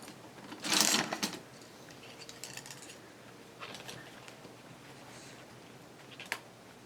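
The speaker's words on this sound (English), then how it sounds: "I'll stitch that on first, and then I'll stitch those papers on." Canvas and papers being machine-stitched onto a handmade journal, with a burst of fast mechanical sewing chatter near the start, then quieter intermittent clicks and shuffles, close and alone without talk.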